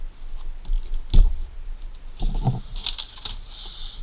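A Petzl Tactikka Plus headlamp being unpacked: scattered crinkles and rustles of packaging come close up, with a firmer handling clunk near the start and busier rustling in the second half, and no talk.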